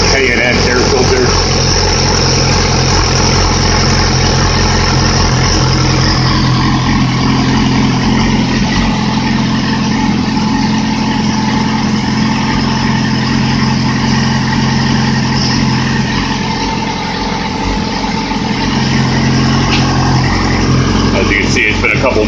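A 2008 Yamaha R6R motorcycle engine fitted with a K&N air filter idles steadily while warming up. It sounds close and constant, with someone talking over it for much of the time.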